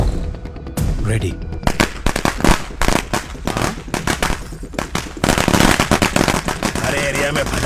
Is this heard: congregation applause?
no